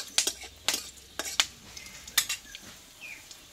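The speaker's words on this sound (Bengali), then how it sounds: "এই ফোড়নটা আমি ভালোভাবে ভেজে নেব।" Whole spices, a bay leaf, a dry chili, a clove, a cardamom pod and cinnamon sticks, fry in hot oil with a faint sizzle, broken by a few sharp clinks and scrapes of a utensil against the pan.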